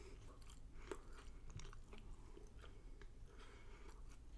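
Close, quiet chewing of a honey roasted Death Nut challenge peanut, a steady soft mash of crunching and mouth sounds with no talking.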